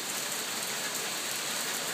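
Moderate rain falling steadily during a May storm, with little wind, a constant even hiss of drops on surfaces, no voices.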